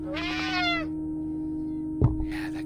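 A cat meows once, clear and close, in a video game, over a steady electronic hum, followed by a sharp knock and a faint short sound.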